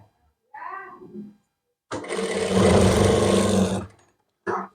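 A sewing machine runs in one burst of about two seconds, stitching a neckline onto umbrella frock fabric. A short voiced sound comes before it and a brief mechanical click follows.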